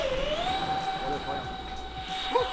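Radio-controlled model airplane with a turbine engine taking off, a steady high whine that rises in pitch and holds, loud and close, with a voice and other sounds in the background.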